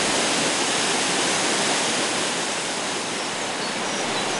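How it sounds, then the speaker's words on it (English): Neidong waterfall on a forest creek crashes down in a dense, steady roar of falling water, loud and close, with no voices over it. "Before arriving at the waterfall area, you'll hear the crash of water."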